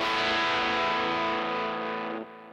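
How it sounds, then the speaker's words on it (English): Electric guitar played through a Little Bear Fuzz pedal, a thick, harsh distorted chord that rings out steadily and loud, then cuts off sharply near the end, leaving a brief faint tail. "the pedal itself has just the nastiest distortion"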